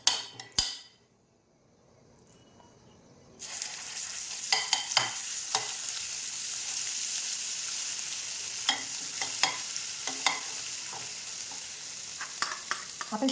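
Ground masala paste lands in hot oil in a frying pan, bursting into loud, continuous sizzling after a brief quiet pause, with scattered clinks of a spoon stirring against the pan.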